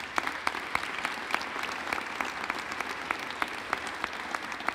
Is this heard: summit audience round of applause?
yes